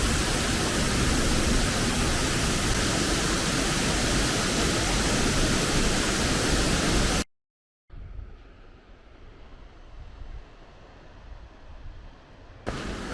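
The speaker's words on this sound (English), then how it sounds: "A rather less known waterfall, Waterfall, just next to the ring road." A waterfall beside Iceland's ring road roars as loud, dense, continuous broadband rushing water, then drops out briefly before returning fainter and more distant for the rest of the stretch.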